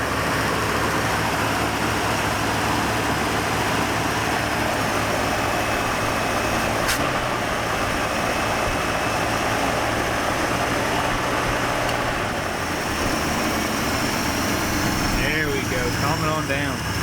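1979 Dodge D100 step-side pickup engine running through a Cherry Bomb muffler, a steady, close, droning idle that continues throughout with a faint rattle, under occasional speech.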